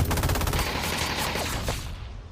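Rapid automatic FAMAS rifle fire in a competitive first-person shooter match, a dense, loud, continuous burst of shots rattling for about two seconds before cutting off.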